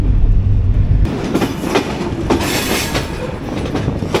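Ruposhi Express luxury train running on rails between Benapole and Jessore, heard from on board as a loud, steady rumble with rhythmic clacking wheel beats.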